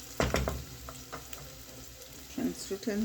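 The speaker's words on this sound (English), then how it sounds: "Just one small onion. What I've put in right now. You let it, you know, cook to translucent" A small onion frying in a pot, a soft sizzle with a few scraping stirs and clinks near the start and end, fairly quiet and close.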